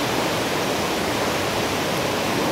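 Steady, dense roar of a waterfall at an island nature spot on Cagbalet, a continuous broadband rush of falling water that stays loud and even throughout with no talk.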